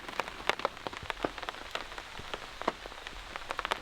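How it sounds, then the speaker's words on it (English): Heavy rain patters and taps on a camping tent during a stormy night, a dense irregular drumming of drops with sharper individual hits, close and steady with no voices. "It's raining pretty good right now."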